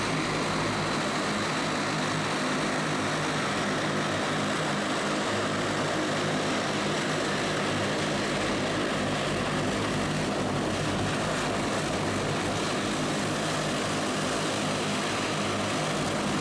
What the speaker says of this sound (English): Our plane did just land and the airport is a lot busier now.